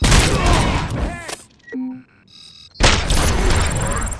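A burst of heavy gunfire and booming blasts in the RoboCop Rogue City video game, loud and dense, cutting out briefly for quiet tonal game sounds before another loud volley of shots resumes.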